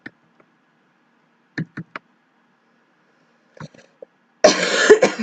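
A few short, dry coughs come in small clusters against near silence, followed by a sudden loud rush of noise at the end.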